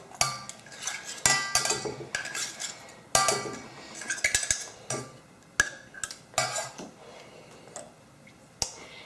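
Packed granola bar ingredients are dumped into a metal saucepan, with a busy run of clanks, scrapes and clinks from a utensil against the pan, arriving in irregular bursts close up.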